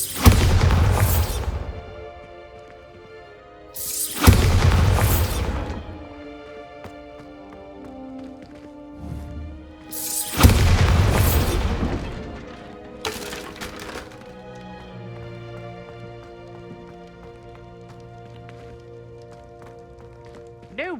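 Spell explosions from a Bombarda cast in Hogwarts Legacy: three loud booming blasts with crackling debris tails, spaced several seconds apart, plus a smaller burst, over a sustained tonal game-music bed.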